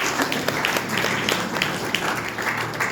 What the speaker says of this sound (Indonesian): Tepuk tangan Bapak Abraham.